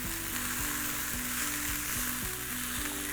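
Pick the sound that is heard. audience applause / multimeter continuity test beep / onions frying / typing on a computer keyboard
onions frying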